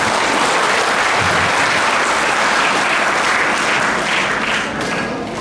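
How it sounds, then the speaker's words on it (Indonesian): Loud, dense applause from an audience fills a Papua Barat Daya inauguration ceremony, a steady wash of clapping lasting several seconds without pause. "Mari kita berikan aplaus dulu kepada"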